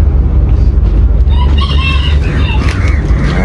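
Chickens and roosters cluck and crow loudly and close in a coop, with overlapping calls over a low rumbling background.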